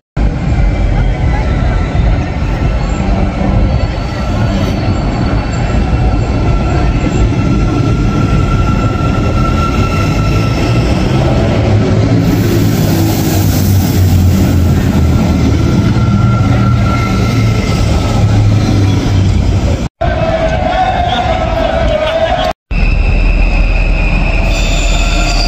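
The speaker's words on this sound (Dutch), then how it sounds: "Leuk die Arriva Limburg treinen hier" Arriva Limburg trains rumbling past at close range, with loud wheel squeal, rail clatter and a continuous heavy roar; a voice speaks briefly over the noise near the end.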